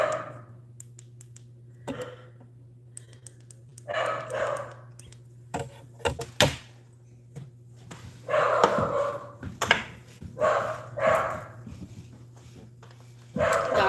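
A dog indoors giving scattered barks, yips and short whimpers at irregular intervals, fairly quiet against a steady low electrical hum.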